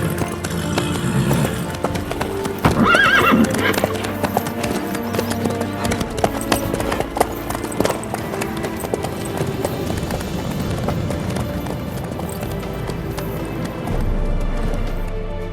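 Horse hooves clip-clop steadily in The Witcher III: Wild Hunt, a brisk, even trotting rhythm that runs throughout at close range over a busy game soundscape, with a brief whinny-like flourish early on.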